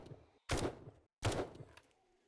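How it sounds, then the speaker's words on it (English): Two loud single shots from a tactical assault rifle with a red dot sight in the zombie survival game 7 Days To Die, spaced under a second apart with brief quiet between. "I want to test the tactical assault rifle"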